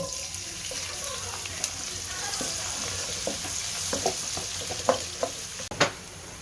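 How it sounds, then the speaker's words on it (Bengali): Chopped onion fries in hot oil with a steady close sizzle, broken by a few sharper pops and utensil knocks toward the end, with no talking. "আমরা দিব তেলের ভিতরে পেঁয়াজ কুচি পরিমাণ মতো"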